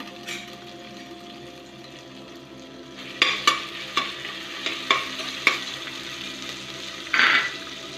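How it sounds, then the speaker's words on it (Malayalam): A constant sizzle of crushed garlic, ginger and green chili frying, then a run of sharp spatula scrapes and taps against the pan in quick succession, followed by a louder burst of hissing. "നമുക്ക് അതിലേക്ക് വെളുത്തുള്ളി ഇഞ്ചി പച്ചമുളകും കൂടി ചതച്ചത് ഇട്ട് കൊടുക്കാം. അതൊന്ന് മൂത്ത് വരട്ടെ."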